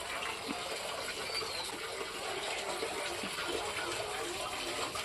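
Tap water runs steadily during the bathing of a small deity idol at home, a continuous hissing splash that stays even and unbroken for the whole stretch.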